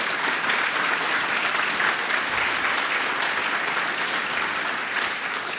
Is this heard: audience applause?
yes